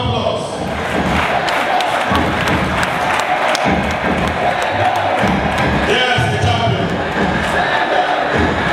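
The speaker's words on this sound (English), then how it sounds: "Please, a hand of applause." A crowd at a 25-year class anniversary gathering applauds and cheers an award honoree, a loud, dense and sustained wash of clapping and voices that carries on without a break.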